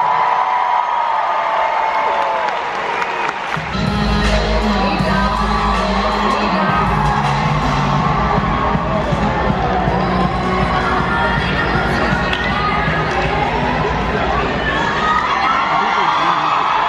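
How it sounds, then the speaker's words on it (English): A large arena crowd at a music awards show in California cheers, whoops and yells continuously, loud and sustained, with a deep rumble under the noise and some voices shouting over it. "Applause for the Radio Music Awards."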